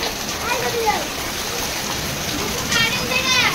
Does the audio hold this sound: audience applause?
no